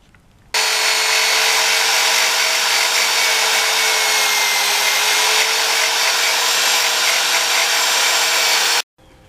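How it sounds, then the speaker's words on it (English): A grinder runs continuously, smoothing a lump flat on a fiberglass fairing part of a Yamaha FZR motorcycle under restoration, giving a loud, steady high-pitched whir that starts abruptly and cuts off near the end. "I'm just going to grind that flat"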